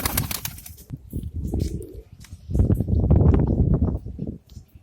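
Bhopal pigeons of the kasni (lilac-tinged) type flutter and flap their wings in close bursts, with low throaty cooing rumbling between the wingbeats and a busier stretch of flapping and calls in the second half.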